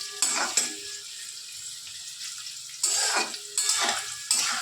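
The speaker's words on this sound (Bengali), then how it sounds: "আগে পনিরটা ভেজে তুলে নিই" Paneer frying in a pan, with bursts of sizzling and scraping stirs coming in several uneven pulses over a quieter background, close and fairly soft.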